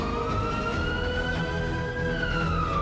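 A continuous ambulance siren wails in a steady, slowly sweeping tone, loud and close, with road traffic rumbling beneath it.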